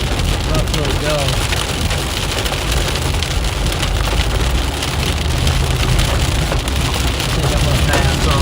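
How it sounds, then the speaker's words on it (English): Hail pelts a storm-chasing vehicle beneath a tornado-warned supercell, a steady dense clatter of hard hits on the body and glass, loud and unbroken throughout. "Seeing pieces of hail hitting right here"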